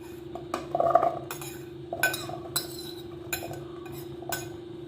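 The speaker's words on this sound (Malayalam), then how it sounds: "ഇനി ഇതിലേക്ക് ആദ്യം ആപ്പിൾ അങ്ങ് ഇട്ട് കൊടുക്കാം" Chopped apple pieces drop into a salad bowl for a fruit salad, making several soft, scattered clinks and taps over a steady low hum.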